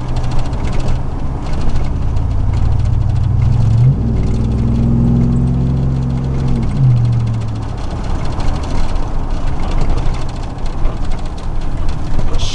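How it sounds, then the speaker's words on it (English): A 2000 Chevrolet Silverado with a 4.8 V8 and an aftermarket stainless Magnaflow-style dual-in, dual-out muffler rumbles at idle, then swells through one loud rev midway and drops back to a steady drone, close and without talk. "These kind of mufflers get loud."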